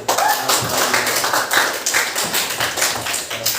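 A classroom group applauds a student named Alif with steady, loud, close clapping that goes on without a break and with no talking.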